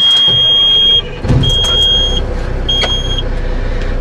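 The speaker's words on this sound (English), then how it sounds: "We'll start the engine." A tractor-trailer truck's diesel engine cranks and catches, a loud low rumble starting about a second in and settling into a steady close idle, with a few short high electronic beeps over it.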